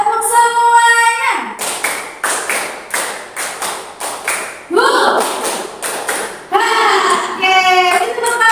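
A class does rhythmic spirit clapping in evenly spaced patterns, a steady sequence of sharp claps roughly every half second, with chanted and sung voices before and after the claps and a short vocal burst in the middle.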